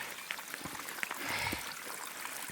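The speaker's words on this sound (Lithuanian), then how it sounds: "Laipteliai pavirto į upelį." Rainwater streaming and trickling down outdoor steps in Santa Margherita Ligure, Italy, in a steady, fairly faint rush, with scattered drips and splashes.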